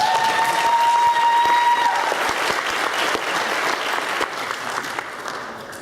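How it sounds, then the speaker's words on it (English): An audience applauds the parents during a Youth Sunday church service, with dense, lively clapping that starts strong and slowly thins and fades toward the end. "let's give our parents a round of applause"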